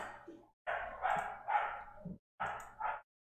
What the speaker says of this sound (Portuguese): com o barulho dos cachorros